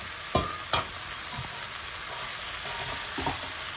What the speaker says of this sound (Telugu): ఇలా అడుగు నుంచి బాగా కలుపుకోవాలి